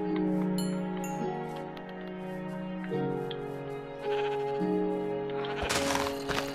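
Sheep in Minecraft bleat several times in repeated tonal calls over a steady game music backdrop, ending in a brief louder noisy burst.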